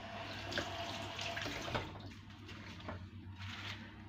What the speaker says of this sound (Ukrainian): І знову я промиваю листя кукурудзи